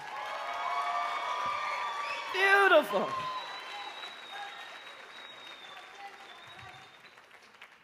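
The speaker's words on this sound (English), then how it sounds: "Give them another nice round of applause." A crowd at a youth poetry slam claps and cheers, with a whoop rising in the middle, then the applause fades under a speaking voice.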